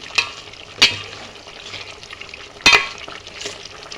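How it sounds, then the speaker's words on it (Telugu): Biryani masala, garam masala, coriander powder, chilli, turmeric and salt are stirred into a sizzling chicken curry, with a steady frying hiss broken by two sharp scrapes of the spoon against the pan. "బిర్యానీ మసాలా, గరం మసాలా, ధనియాల పొడి, కారం, పసుపు, ఉప్పు ఇవి కూడా ఒకసారి బాగా కలుపుకుందామండి"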